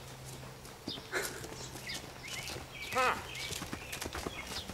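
A horse canters along outdoors, its hoofbeats thudding in an uneven rhythm at moderate distance, with a short vocal exclamation and a snort or whinny-like sound mixed in.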